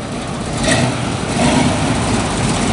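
A 1973 Mustang Mach 1 with a 351 Cleveland V8 and 4-speed rumbles loud and close, a thick, steady idle with slight swells in level, heard alone.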